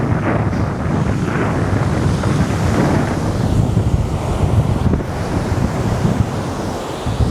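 Ocean waves wash continuously onto Velsao Beach in Goa, a steady broad roar of surf mixed with gusting wind buffeting the microphone, loud and close with no voices.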